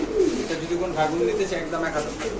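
Lahori and round fancy pigeons coo in low, throaty bursts close by, with voices talking over them throughout.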